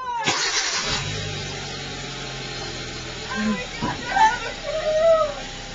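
A manual-transmission car engine cranks and catches with a sharp burst, then settles into a low steady idle with a few light revs, while people talk nearby over it.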